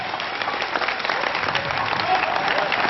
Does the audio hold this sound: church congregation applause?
yes